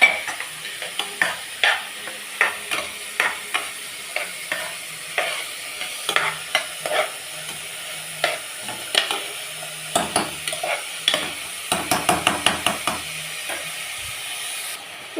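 Onions and green chillies sautéing on low heat in a pan, a soft continuous sizzle broken by many rhythmic spatula scrapes and taps against the pan, with a burst of rapid stirring near the end.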